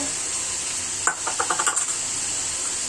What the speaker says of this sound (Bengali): আমি এখন এই যে মাছগুলো ছেড়ে দিচ্ছি কোরাল মাছ